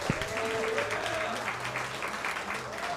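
Comedy club crowd clapping, a continuous soft patter of applause under a speaking voice and some tonal background sound, fairly even in level from start to finish.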